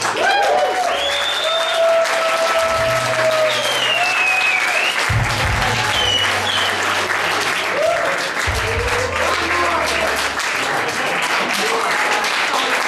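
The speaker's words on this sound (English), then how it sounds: "Give yourselves a round of applause." An audience applauds at the end of a live show, a dense, steady clapping that fills the whole stretch, with some crowd noise and a few low, sustained tones running underneath.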